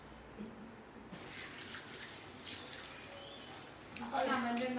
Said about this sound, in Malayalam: ചക്ക കഴുകുന്ന